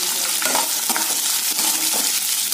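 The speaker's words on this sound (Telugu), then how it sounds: "కొంచెం ఆనియన్స్ ఫ్రై అయినంత వరకు మనం ఫ్రై చేసుకోవాలి" Onions and cashews, with green chillies, curry leaves and ginger, fry in a pan with a loud, close crackling sizzle and rhythmic scraping from stirring.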